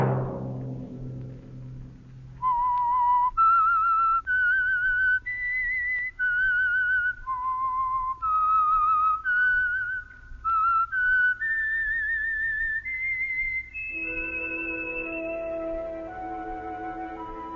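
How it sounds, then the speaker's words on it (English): A lone human whistler carries the theme signal of the radio mystery show The Whistler, a clear, eerie melody of sustained notes and rising phrases, loud and close, then gives way to orchestral music near the end. "Let that whistle be your signal for the Signal Oil program, The Whistler"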